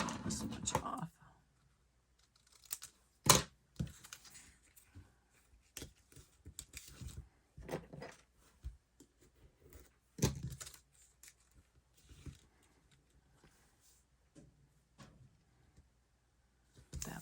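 Paper from a Close to my Heart Hope & Kindness collection is trimmed for a scrapbook layout, producing quiet, scattered snips, clicks and rustles separated by pauses.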